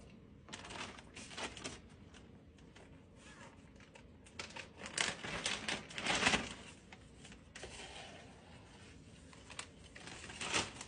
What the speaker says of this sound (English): This is a perennial, so I'm just going to write perennial.